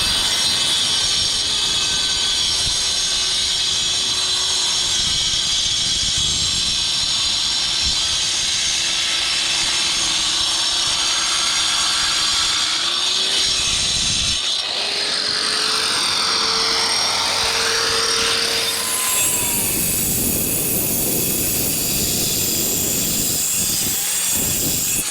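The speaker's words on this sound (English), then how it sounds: "I'll grind the bottom of this pillar out." A grinder cuts into the base of a concrete pillar during wall demolition, producing a loud, continuous high whine and hiss that shifts pitch and grows harsher toward the end.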